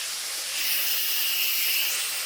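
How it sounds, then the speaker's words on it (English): Steam released from a pressure-cooked pot of meat, covered with a small towel, a continuous loud hissing rush that swells slightly midway and holds steady to the end, with no talk. "now you're just gonna let the steam out."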